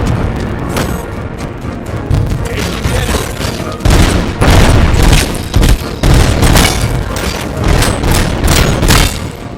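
Thrown mines explode in RoboCop Rogue City Unfinished Business, a rapid series of loud, close booming blasts and gunfire in the second half, layered over a constant rumble of combat noise.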